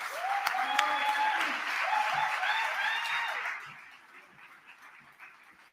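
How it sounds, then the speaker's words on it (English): An audience applauds a guest brought to the stage at a Malcolm X tribute event, steady clapping with some voices over it, fading to a quieter patter after about four seconds. "Please give a round of applause"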